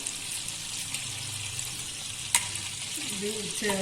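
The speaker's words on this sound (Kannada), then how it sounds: "ಒಗ್ಗರಣೆ ಹಾಕ್ತಾ ಇದ್ದೀನಿ" Whole spices sizzle and fry in butter and oil inside a pressure cooker for a Kannada paneer and green peas pulao, a steady close hiss with a brief sharp clink midway and no talk.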